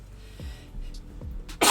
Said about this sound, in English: Lucky sneezes to bless the break.